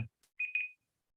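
A timer beeps during a live stream, a short faint click followed by two quick high electronic beeps that fade out, brief and alone after a soft thump.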